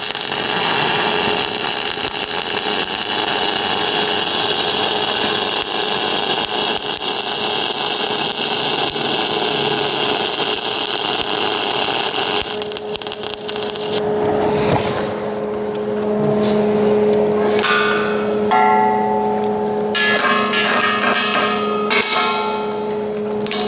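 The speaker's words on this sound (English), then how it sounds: "So I'm gonna tie into this tack and finish this weld." MIG welding, tying a bead into a tack weld: a steady, dense crackling buzz runs for about twelve seconds, then stops and gives way to quieter, intermittent shop noise and a faint hum.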